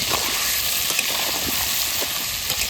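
Potatoes frying in a pan with salt, Kashmiri chili powder and turmeric, giving a steady close sizzle and crackle that holds throughout with no voices.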